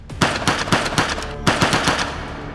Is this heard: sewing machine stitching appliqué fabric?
no